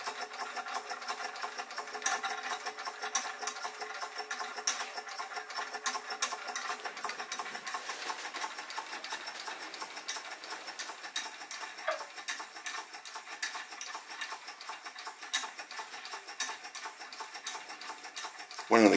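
A Jensen #75 toy steam engine drives a gearbox turning an Eitech Ferris wheel, giving off a faint, fast, continuous mechanical ticking and pattering with scattered small clicks throughout.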